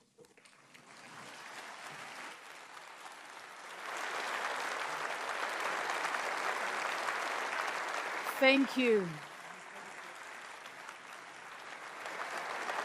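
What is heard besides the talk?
audience applause for the Ukrainian President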